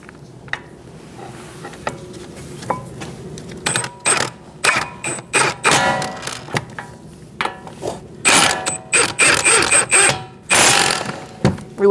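A ratchet snugs up the front brake caliper bolts on a 2013-2019 Cadillac ATS, giving repeated close, sharp clicking bursts in quick strokes that grow busier and louder toward the end, with no talking.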